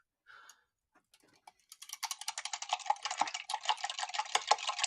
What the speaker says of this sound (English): And keep whisking it.